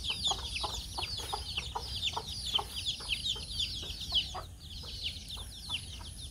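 A hen clucks among her chicks outdoors on a rural homestead, soft rhythmic clucks repeating every fraction of a second while the chicks peep in a constant high-pitched chorus close by, with no talking.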